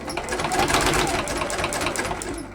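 A sewing machine runs steadily, stitching the second side of a selvage edge zipper pouch, its fast needle chatter close and continuous with a slight slowdown near the end.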